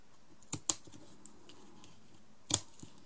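Scissors snip excess ribbon inside a paper Easter box craft: two or three quick, faint, close cutting clicks in an otherwise quiet room.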